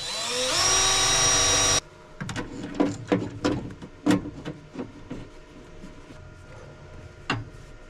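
A power drill bores into the steel body of a VW with a VR6 engine, opening with a loud, steady high whine for about two seconds, then falling into a series of scattered knocks, scrapes and clatters from the workshop.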